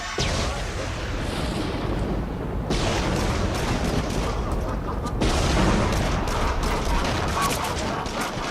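Pistol gunfire in a PlayStation VR shooting game, a dense, continuous barrage of shots and booms that fills the whole stretch with little pause.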